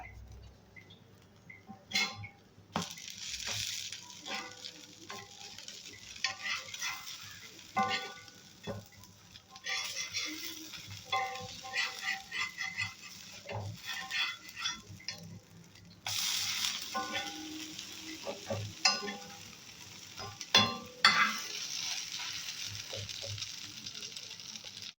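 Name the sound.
bread toasting in a pan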